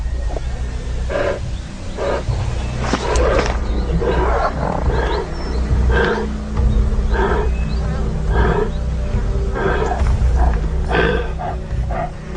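A lioness fights a buffalo on the African savanna, giving repeated loud, close roars and growls in short bursts over a rumbling background.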